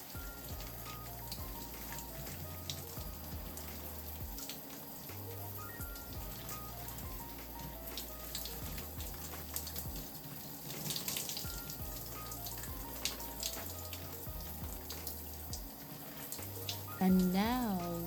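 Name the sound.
shower water rinsing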